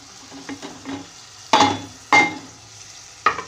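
Spices stirred and frying in a pan for aloo methi give a low, soft sizzle under three loud metallic clinks of a spoon against the pan.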